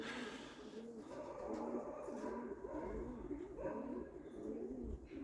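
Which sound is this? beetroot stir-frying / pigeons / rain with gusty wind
pigeons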